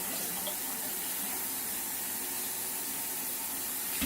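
Tap water runs steadily into a 2-cup measuring cup as pasta is prepared in an Instant Pot, a continuous close hiss of filling water.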